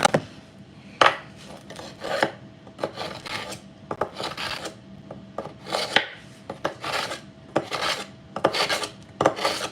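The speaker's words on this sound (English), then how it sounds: "There's my knife sharpener." A knife is drawn repeatedly across a sharpener, giving a run of close, rasping strokes in an irregular rhythm with short gaps between them, heard alone with no voices.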